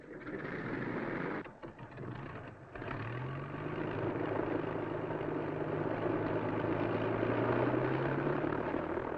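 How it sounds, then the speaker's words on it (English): Spitfire and Hurricane fighter aircraft engines starting up: a loud, continuous propeller-engine drone dips briefly, then swells into a steady, booming roar that holds to the end. "their engines surging into life with that booming song of power"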